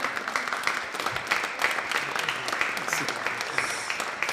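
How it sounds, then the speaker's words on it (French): An audience at a finance evening event applauds a guest, a steady, moderately loud wash of clapping that holds evenly throughout. "Je vous demande d'applaudir très fort Thomas."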